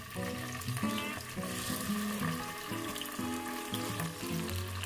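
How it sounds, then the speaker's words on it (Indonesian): Large tofu pieces frying in a home kitchen pan, a steady close sizzle running throughout with faint clinks and stirring noises, no voices present. "Nah ini langsung aku goreng aja ya."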